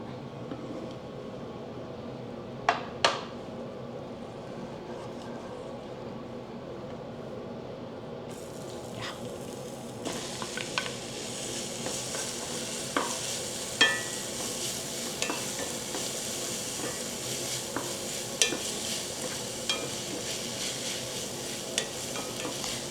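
Onions fry in a pan, hissing softly and steadily while a utensil stirs and clicks against the pan now and then. The sizzle grows brighter partway through.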